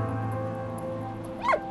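A puppy in the video game Valiant Hearts lets out a brief whimpering yelp near the end, over steady game music and ambient hum.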